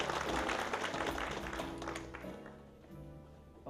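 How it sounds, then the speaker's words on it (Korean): An audience at an anniversary ceremony claps in a dense, loud burst that slowly tapers off over a few seconds, heard through a hall's amplified room sound. "박수로 환영해 주시죠."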